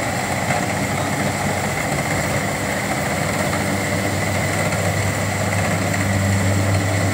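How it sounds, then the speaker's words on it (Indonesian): A rice harvesting machine's engine runs steadily at a constant, loud drone with a mechanical rattle, working in a paddy field, with no voices. "Inilah keunggulan melakukan panen dengan mesin seperti ini."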